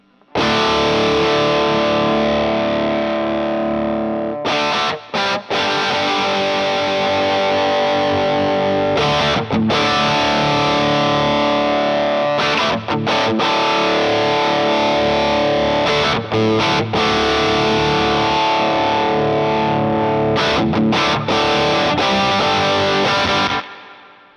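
An electric guitar plays through an EL84 tube amplifier with the overdrive set moderately. It gives a loud, sustained distorted tone with chordal strums, broken by a few brief pauses.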